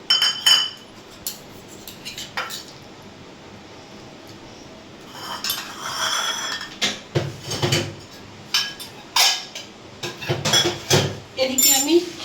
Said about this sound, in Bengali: এবার আমি চামচের সাহায্যে বাটি থেকে ডিমগুলোকে তুলে নিচ্ছি